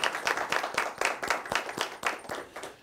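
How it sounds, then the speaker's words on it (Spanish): A small group claps in a loose, rhythmic beat during a broadcast Catholic Mass, distinct close hand claps repeating at a steady pace for about three seconds. "Yo quiero un aplauso para ustedes mismos."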